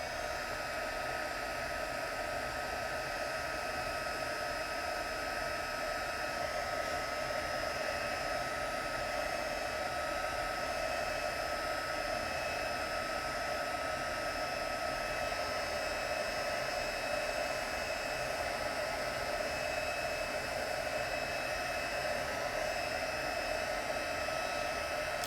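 A heat tool blowing hot air over embossing powder, a steady, loud whooshing roar with a constant whine that runs unbroken and close throughout, with no talk.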